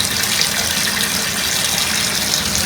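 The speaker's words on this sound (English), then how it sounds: "the water is filling up inside the tub" Water gushes steadily from a tap into a bathtub during a drain plug repair, a loud, constant rushing pour heard alone and up close.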